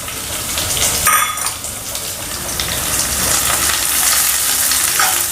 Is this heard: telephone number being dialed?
no